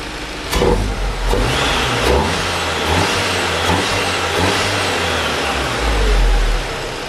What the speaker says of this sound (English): A little bit of a rev with that with the boost pipes on.